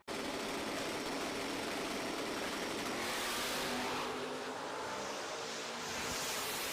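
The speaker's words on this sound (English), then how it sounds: "Big smoke there out of Sean's Mustang as they cross the finish line." Drag racing cars at a Shakedown elimination, one a Mustang trailing big smoke, crossing the finish line: a loud, sustained wall of engine roar filling the whole clip and shifting in tone partway through.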